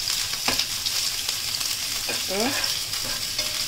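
Green chillies for chilli fish fry and sizzle loudly in hot oil, with a steady close hiss and several clinks and scrapes as they are stirred. One short spoken word is heard.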